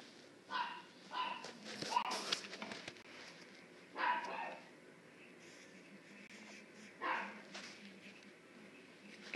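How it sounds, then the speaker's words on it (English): A dog barks in the background in several separate bursts, faint and fairly distant, spaced a couple of seconds apart. "I'm sorry about the dog barking in the background."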